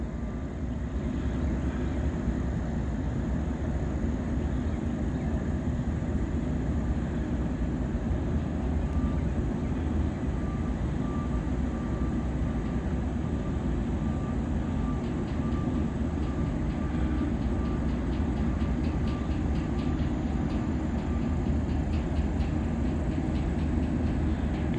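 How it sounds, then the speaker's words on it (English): A heavy CSX freight train rumbles past steadily for the whole stretch, a deep continuous roar with a faint tonal whine, nearby and unbroken. "That's the second CSX train today."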